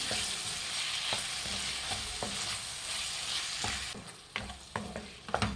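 A small finely chopped tomato sizzles and fries in a pan for a spicy chicken liver fry, with a steady crackle and sharp scraping clicks of stirring, which come faster toward the end. No voices.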